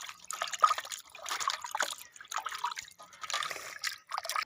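Pigeon meat is rinsed under running water, giving an uneven splashing trickle and dripping close by that rises and falls as the pieces are moved.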